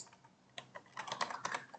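Computer keyboard typing while a project name is entered in Unity, a faint run of soft, quick key clicks that grows busier and slightly louder toward the end, with no talking.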